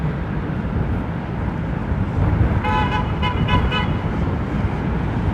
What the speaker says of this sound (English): I guessed it was a 330 just based on the long spool up.